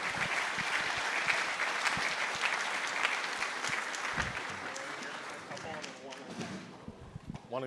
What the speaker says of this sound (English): so big round of applause for Mr. Richard up there.